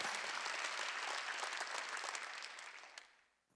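Applause from a church congregation during a Wednesday worship service fills the room in a dense, steady roar of many hands clapping, then tapers off and fades out near the end.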